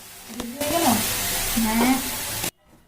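Cashews frying in hot oil for khichuri, a loud close sizzle running almost throughout before stopping abruptly, with a voice speaking over it.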